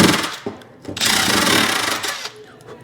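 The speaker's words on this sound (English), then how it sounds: "This is a hammer drill, by the way." Loud, rough mechanical drilling from a hammer drill during a loose ceramic floor tile repair, in bursts, a buzzing rattle that starts, pauses briefly, then runs for about a second before tapering off.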